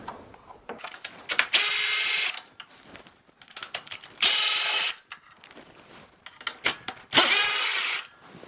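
A ratchet on a long extension backs out fairing screws on a 2020-2022 Indian Challenger motorcycle, with short clicking strokes broken by three longer, louder bursts of rapid ratcheting, close by.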